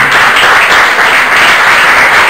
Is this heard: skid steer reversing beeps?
no